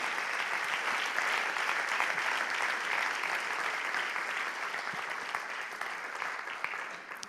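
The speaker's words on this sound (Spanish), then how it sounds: "Den un aplauso, aleluya." A church congregation claps together at a Spanish-language sermon, a dense, sustained round of applause that stays loud and even throughout before easing slightly at the end.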